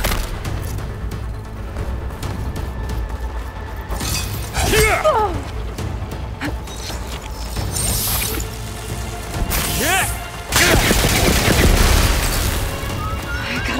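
Gunfire and heavy crashing impacts in Horizon Forbidden West: loud bursts and shattering booms fill the scene over a constant mechanical din, with whooshes sweeping through and a sharp surge of blasts near the end.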